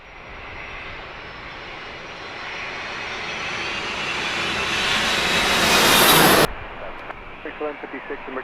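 Loud aircraft engines roar at San Diego Airport, a heavy Boeing 767 among them, swelling steadily toward a peak before cutting off abruptly into quieter intermittent engine noise.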